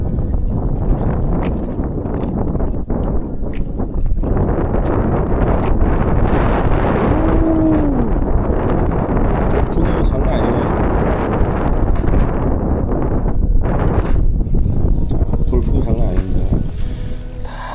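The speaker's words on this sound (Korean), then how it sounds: "와씨 바람" Strong wind at sea buffets the microphone with heavy, continuous low rumbling and gusting roar while fishing for cuttlefish off Geumodo island, a person talking and exclaiming over it throughout.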